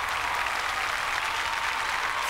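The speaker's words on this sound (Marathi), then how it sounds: "जोरात टाळ्या झाल्या पाहिजे स्वप्नील जोशी" Studio audience at a Marathi comedy show applauding film guests, a continuous, even wash of many hands clapping at steady loudness with no break.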